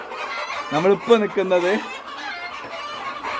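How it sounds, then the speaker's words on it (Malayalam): Native country chickens on a farm in Qatar give a quick run of close clucks and squawks midway, with someone talking over the start and steady farmyard background throughout. "നല്ല നാടൻ കോഴി, നമ്മളെ നാട്ടിൽ കിട്ടുന്ന നാടൻ കോഴി ഫാം"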